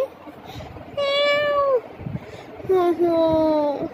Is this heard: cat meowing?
yes